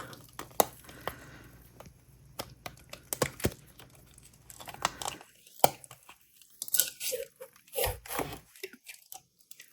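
A custom resin or silicone piece being peeled from its mold after curing about 24 hours, giving scattered crackling, tearing and crinkling pulls, mostly close and quiet, growing busier and louder toward the end.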